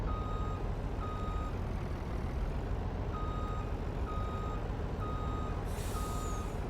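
Repeated evenly spaced electronic reversing beeps from a truck backing up in Farm Sim 19, sounding over a steady diesel engine drone, followed near the end by a short hiss of air brakes.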